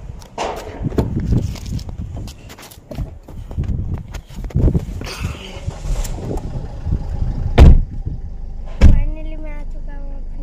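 Someone climbing into a car: shuffling and rustling movement, a couple of sharp door thumps and clicks, and a faint whine like a power window, with someone speaking at points.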